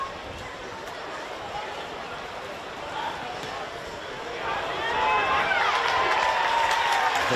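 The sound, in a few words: rugby crowd reacting to a kick at goal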